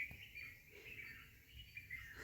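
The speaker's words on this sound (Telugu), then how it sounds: "ఇదండి త్రియుద్రపీఠంలో పిట్టల సందడి." Birds chirp faintly and continuously in the open grounds of a temple, a thin high twitter over soft background hum.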